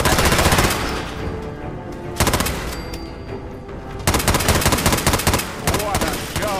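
Robco Galactron robots fire lasers at iBots in Fallout 4's Nuka-World. Loud rapid-fire bursts come in three volleys separated by short pauses, crackling like machine-gun fire.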